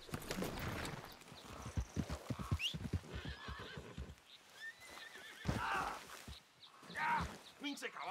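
A horse in Red Dead Redemption 2 whinnies several times while hooves clop, with game character voices and other talk mixed in over the animal sounds.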